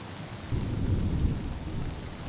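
Steady heavy rain with rolling low thunder in Honkai: Star Rail, a dense continuous roar that swells louder after the first half second and stays with no voices.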